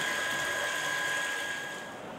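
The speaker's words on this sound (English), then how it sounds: "water will keep on flowing on the seam welding wheel for" Cooling water runs over the wheel of a 100 kVA circumferential seam welder for transformer radiators, a continuous close hiss with a thin steady whine in the machinery, easing slightly toward the end.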